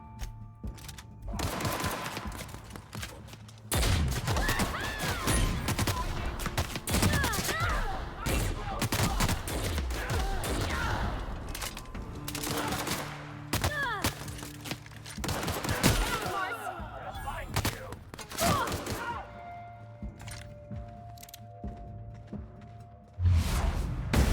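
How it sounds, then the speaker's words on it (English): Gunfire and explosive grenade launcher blasts from combat in The Outer Worlds video game, dense bursts of shots and booms across the whole stretch with mechanical game sounds, loud and continuous. "This looks like a good time for grenade launcher."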